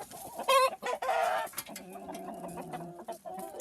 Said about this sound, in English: we have 5 roosters in here